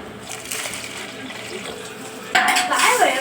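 Rasam and water are poured into a metal pot in a home kitchen. Faint clinks and stirring come first, then a louder splashing gush of liquid near the end.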